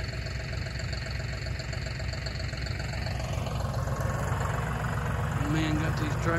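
A tractor engine idles with a steady, low, throbbing rumble throughout, close and continuous.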